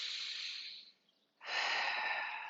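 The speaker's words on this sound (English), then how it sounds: "Take a deep breath." A deep breath during a core and psoas exercise class: a long, airy inhale, a brief pause, then a full, slightly louder exhale, close and alone.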